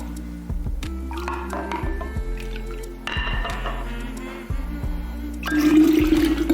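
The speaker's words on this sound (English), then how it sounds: "So now we're going to transfer our juice" Pineapple ginger mint juice pouring into a pitcher: a continuous liquid stream with gurgling, splashing and a filling sound that grows louder and fuller near the end.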